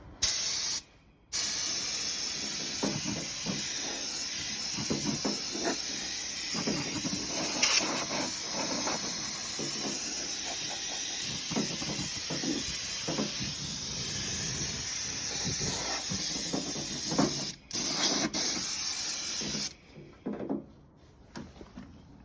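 An aerosol spray can paints a panel black on a Ford Escort RWD build, a steady close hiss held in long pulls, broken by brief pauses, until it cuts off near the end.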